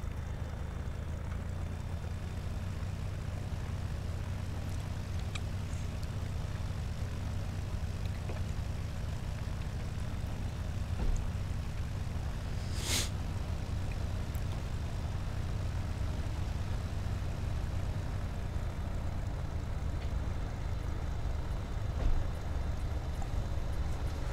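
A steady, low propeller aircraft engine drone from an airplane back-taxiing along a runway in the X-Plane 11 flight simulator, continuous and moderately quiet, with one brief sharp click partway through.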